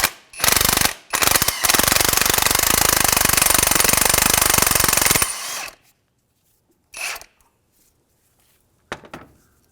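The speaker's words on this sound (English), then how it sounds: "we're just going to see if we can get our impact on there and back it off" A pneumatic impact wrench with a deep socket hammers loose a 17mm side engine mount bolt on a 2003-2011 Honda Element, in one loud sustained burst of rattling blows of about five seconds, followed by two short blips.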